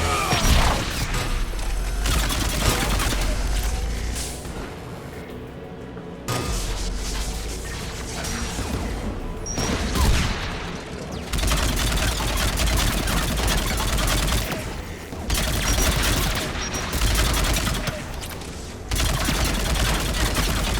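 Sustained volleys of gunfire from defensive tower guns in Mass Effect 3 blend with loud booms and mechanical clatter, dense and continuous with only a few short lulls.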